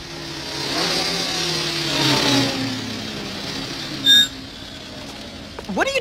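An animated motorcycle engine revs up and rises in pitch, then fades into a sharp metallic clank and a scraping crash-like burst, loud and close.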